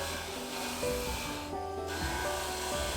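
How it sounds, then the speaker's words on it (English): A drum sander grinds across a walnut and epoxy resin panel, a steady abrasive rubbing roar with shifting tones, loud and continuous with no voices. "I passed it through the drum sander"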